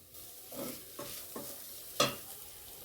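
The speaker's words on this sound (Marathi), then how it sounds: "हिरवी चटणी कांद्यात खूप छान खमंग अशी परतून झाली आहे" Green chutney is being sautéed with onions in a hot tempering. The sizzle runs steadily under a few distinct spoon stirs and scrapes, ending in one sharper clack against the pan, and no one speaks.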